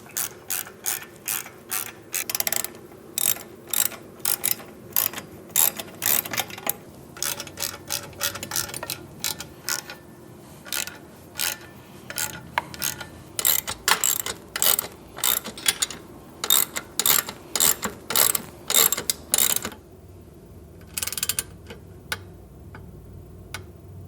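Ratcheting torque wrench clicking repeatedly on exhaust bolts of a Harley-Davidson Milwaukee-Eight Softail during a 2-into-1 exhaust install, in close, rhythmic bursts of sharp ratchet clicks separated by short pauses, with no talk.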